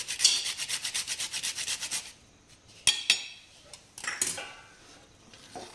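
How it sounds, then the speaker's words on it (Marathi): Whole nutmeg rasped over a pan of kheer: a quick run of about a dozen even, rhythmic scraping strokes, fairly close, followed by a few scattered clinks and scrapes against the utensils. "आता लास्ट राहिलेलं आहे आपलं जायफळ, ते आपण खिसून घेऊया खिरीवर"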